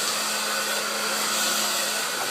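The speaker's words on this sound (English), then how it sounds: "It's just a hairdryer." A hair dryer blows on a bulldog, giving a steady, close, loud whooshing hum with a constant whine that carries on unbroken throughout, with no talking.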